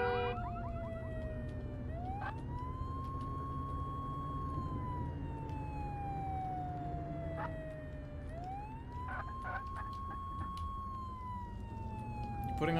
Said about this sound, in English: You're putting on a siren for a cat.